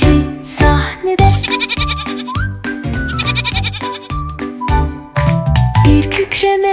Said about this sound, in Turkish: kim bu yükseklere tırmanan keçi sahnede?